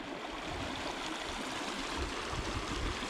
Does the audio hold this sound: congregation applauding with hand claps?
no